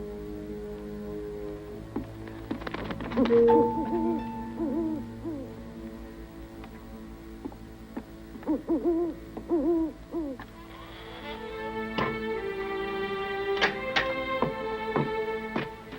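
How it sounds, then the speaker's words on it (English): A barn owl gives repeated wavering hoots, loud and close, in separate bursts across a quiet background with no talk. "Just an old barn owl."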